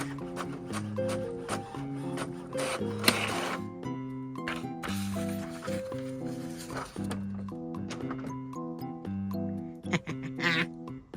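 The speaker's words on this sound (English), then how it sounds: "I'm gonna print something. I'm printing something pretty fantastic" A printer running a job, its motors whirring in stepped, pitched tones that shift up and down in short bursts, with clicks and feed noises between them, close and fairly loud.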